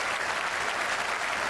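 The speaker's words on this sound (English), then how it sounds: "A little clap there for Flintoff from Warne." Steady crowd applause ripples around the ground at an Ashes Test cricket match, a dense, continuous wash of clapping at moderate distance that holds through the whole short stretch with no speech on top.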